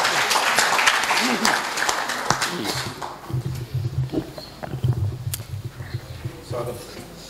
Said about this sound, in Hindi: तालियों से स्वागत करें सालिम शुजा